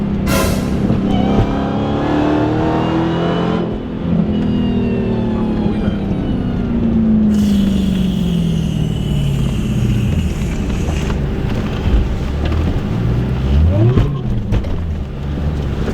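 A supercharged car engine revs hard, a loud continuous roar that climbs and falls in pitch with a whine on top, heard up close throughout with no one talking over it.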